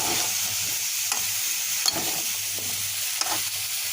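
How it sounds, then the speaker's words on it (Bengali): Taro stolons are stir-fried in a pan with a reduced fish curry, producing a constant close sizzle broken by occasional scraping stirs. No one speaks. "মাছ কষা হয়ে গেছে এবার আমি কচু লতিগুলো দিয়ে একটু কষিয়ে নেব"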